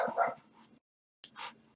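A dog gives a couple of short barks and yips, fairly close, separated by a brief silence.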